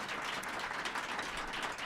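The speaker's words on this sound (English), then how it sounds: "all 4 of them deserve a huge round of applause from everyone in the audience" Audience at a Women's History Month event applauding four women honorees, a continuous, even patter of many hands clapping throughout the short stretch, with no talk over it.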